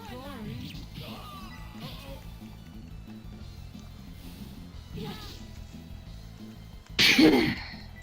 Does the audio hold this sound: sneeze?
yes